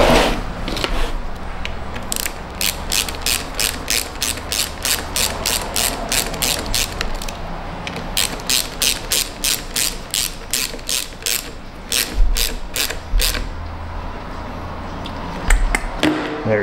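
Close, rapid clicking bursts from a ratchet wrench tightening a bolt on the battery terminal post of a Chrysler Pacifica. The bursts come in repeated runs with short pauses and a few metallic knocks between them.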